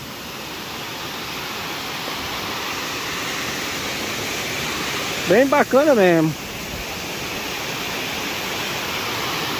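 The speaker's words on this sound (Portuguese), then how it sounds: "Essa é a famosa Cachoeira do Roncador." Cachoeira do Roncador, a waterfall in rural Paraíba, Brazil, gives off a steady, dense roar of rushing water throughout, with a voice speaking briefly over it.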